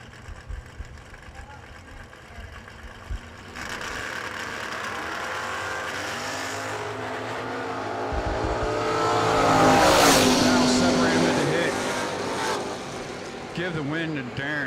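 A 1968 Chevelle drag car launches at a bracket race, its engine building from a low rumble into a loud, sustained roar that peaks and then fades, with a public-address announcer talking over it.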